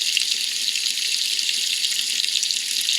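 Hot water runs steadily from a tap in an RV, a continuous bright hiss and splash that stays even and close for the whole stretch with no voices.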